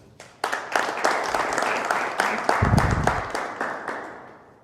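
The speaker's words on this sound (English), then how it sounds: "And a round of applause, please." Guests at a sports federation's first annual reception break into applause, starting abruptly and building into lively, crisp clapping from a nearby crowd that holds steady before gradually thinning out.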